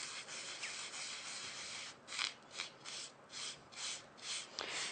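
Rub It Scrub It product worked by hand into the last corner of a gilded lace die-cut panel, giving soft close rubbing strokes in an even rhythm, continuous at first and then in separate back-and-forth passes.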